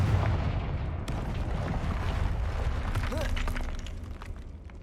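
A Confringo blasting spell from the Hogwarts Legacy video game sets off a sudden booming burst, followed by a rumbling, crackling tail that slowly fades.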